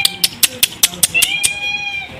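Several small kittens at home meowing as they come for food, a run of short, high, close calls in quick succession followed by a longer drawn-out cry.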